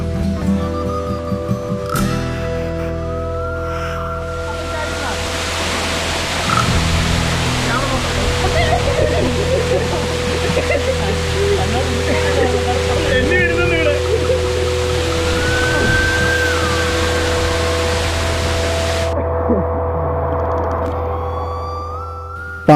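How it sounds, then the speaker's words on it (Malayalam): Orekkar waterfall on the rocks at Konni, Pathanamthitta, Kerala, gives off a steady, broad rush of falling water. Sustained tones and other background sounds run over it throughout. "അടിപൊളി വെള്ളച്ചാട്ടം, സൂപ്പർ വെള്ളച്ചാട്ടമാണ്."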